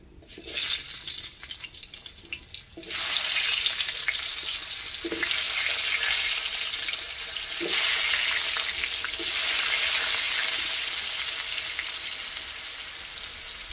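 Potatoes fry in oil for a fish curry, a steady loud sizzling hiss that starts after a short quieter moment and carries on with a few stirring knocks, no voices.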